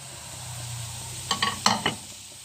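Blended onion hitting a hot pan with browned garlic, a soft steady sizzle followed by a few sharp scraping stirs of a utensil near the end.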